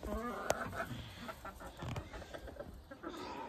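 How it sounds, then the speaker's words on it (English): A flock of chickens clucks in a farm enclosure, with busy overlapping clucks and a few sharper squawks continuing throughout at close to moderate range. "So once again, there's my chicken flock."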